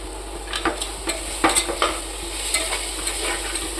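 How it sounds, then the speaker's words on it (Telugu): Chicken for biryani fries in a pan with chili, coriander, cumin and garam masala powders, stirred in quick scraping strokes over a steady close sizzle. "మొత్తం కూడా ఫ్రై చేసుకోండి మంచిగా."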